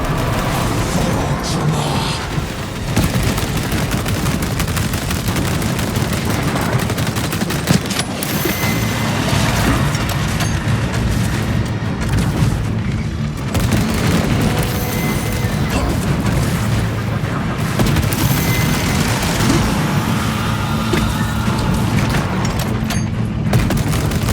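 Dense, continuous gunfire and booming explosions from the Warhammer video game Space Marine, loud and sustained throughout a battle against a Neurothrope, with heavy low rumble and crashing impacts layered together.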